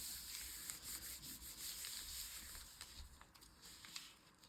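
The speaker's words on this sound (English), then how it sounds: "So I'm just going to rub that bit a bit more." Paper rubbed by hand onto a painted gel printing plate for a botanical print, a soft continuous close-up rubbing and brushing with slight patter, faint and steady without talk.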